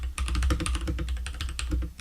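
Fast, crisp keystrokes clatter on a compact Keychron K4 keyboard, a dense run of close, loud clicks in an uneven typing rhythm with no speech.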